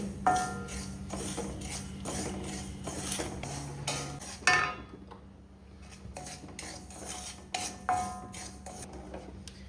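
Semolina dry-roasting in a pan without oil, with metal spoon scraping and clinking against the pan in an irregular rhythm, fairly close and steady with brief pauses.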